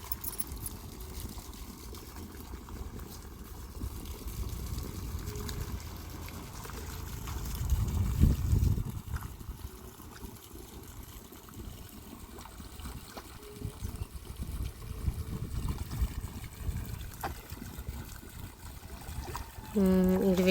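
Irrigation water trickles faintly along a channel in a home vegetable garden, a low, continuous wet murmur with a stronger surge midway, beneath occasional voices.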